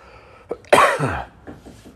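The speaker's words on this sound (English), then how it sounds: "That cough scared that one away." A single sharp, loud cough bursts out close by on a beach, followed by a few fainter rough exhalations in otherwise quiet surroundings.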